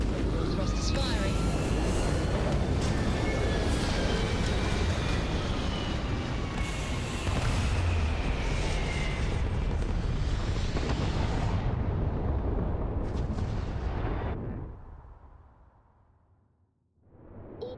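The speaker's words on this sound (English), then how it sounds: "Thrust is firing." Spaceship thrusters firing in Starfield make a loud, steady roaring rush that lasts about fourteen seconds, then cut off sharply into near silence.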